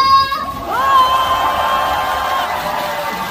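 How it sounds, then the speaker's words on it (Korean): A large outdoor festival crowd at an expo concert in Korea claps and cheers for a young singer, with shouts and whoops rising over steady applause; a voice calls out briefly at the start. "다 같이 박수 함성."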